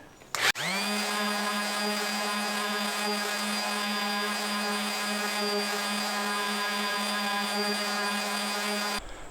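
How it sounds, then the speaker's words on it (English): Power sander running on the wooden body of a semi-hollow guitar kit to remove red stain, a steady droning whir that starts abruptly, holds evenly for about eight seconds, then cuts off, with no voices. "So I'm going to sand it and we're going to see how it looks."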